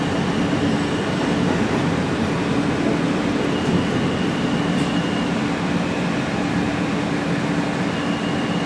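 A New York City subway express train bound for Coney Island–Stillwell runs between stations, a steady loud rumble of wheels and car noise with a faint high whine and no pauses.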